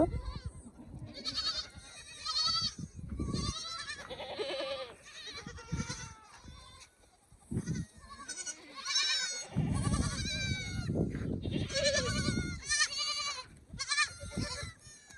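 Goats and sheep bleat repeatedly, several animals calling in overlapping bursts, some loud and close, others fainter, with brief pauses between calls.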